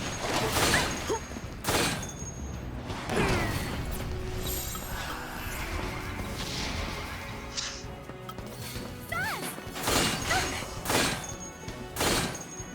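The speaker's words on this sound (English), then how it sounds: "the sound of gunshots on metal here is something else" Rapid bursts of gunfire with sharp metallic impacts and clanks, loud and close, coming in repeated volleys amid game sound effects from Final Fantasy XIII.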